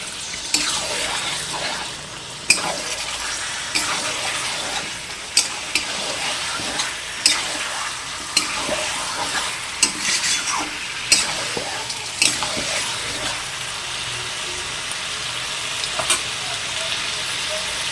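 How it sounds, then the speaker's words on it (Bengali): Chicken pieces sizzling in a hot pan for a home-made chicken curry with potatoes, with a steady fry hiss and regular sharp clinks and scrapes of a spatula stirring the meat throughout. "ভালো করে মাংসটাকে কষে নিতে হবে।"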